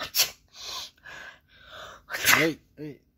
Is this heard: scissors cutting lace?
no